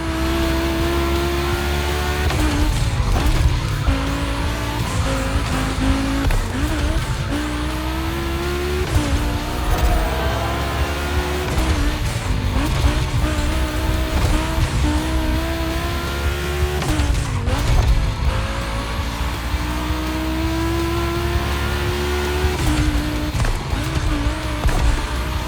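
Volkswagen race cars in The Crew Motorfest racing game lap the track with sustained engine drone, rising and falling revs through gear shifts, and occasional tire squeal, loud and continuous throughout.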